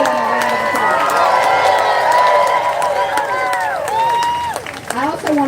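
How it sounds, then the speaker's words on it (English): Crowd at a street protest in New Orleans applauding and cheering loudly, with whoops and shouted voices riding over the clapping, all close and energetic throughout. "So let's give them a round of applause."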